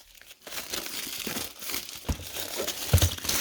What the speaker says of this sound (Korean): 요거는 개봉.